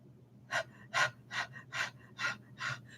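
A person imitates a lung function breathing test with soft panting breaths, seven short even puffs in a steady rhythm, close and alone with no talk.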